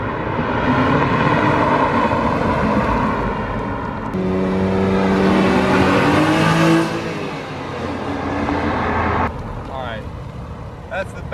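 A speed yellow Porsche Boxster convertible zips around a roundabout, its engine revving steadily and loudly at close range while people talk over it.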